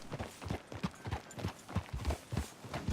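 Horse hooves clip-clop in a steady, even rhythm through a Red Dead Redemption 2 town, about two dull thuds per half second, moderately close and continuous with no talk over them.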